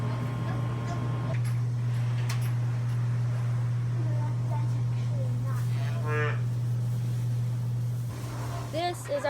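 Calves and cattle moo in a pen, several drawn-out calls near and far over a constant low engine-like drone, with a person talking at times.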